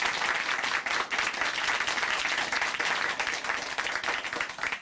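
A studio audience at a church testimony program clapping steadily, a full, even round of applause that holds for several seconds and fades slightly at the end.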